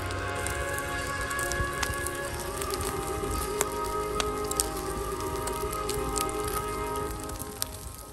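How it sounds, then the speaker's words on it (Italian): Salmon grilling over embers at an outdoor evening cookout in Sardinia, a soft continuous sizzle and hiss peppered with scattered crackles and pops, fairly quiet and steady, with no talking. "Stasera salmone alla brace."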